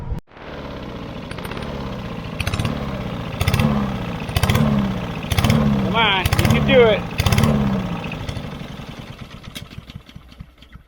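A small lawn mower engine sputters and surges in repeated waves, then settles into a steady idle, with a person speaking briefly over it.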